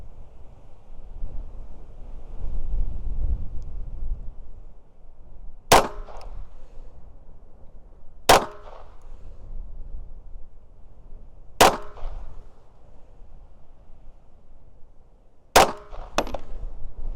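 Four sharp gunshots ring out at uneven intervals over steady wind rumble, each a loud crack with a brief ringing tail, fired as a target group with 147-grain ammunition.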